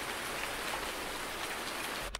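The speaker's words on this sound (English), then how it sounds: "We got to wait for it to stop raining" Rain falling in the Farming Simulator 19 video game, a steady, even hiss of drops that stays soft throughout and ends with a brief thump, with no talking.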